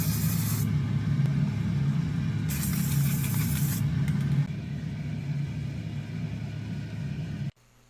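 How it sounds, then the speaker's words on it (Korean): Clear matte coating spray hisses onto a 3D-printed figure in two short bursts, heard over a steady low hum. "투명 무광 스프레이를 뿌려서 살짝 무광으로 코팅을 해줍니다."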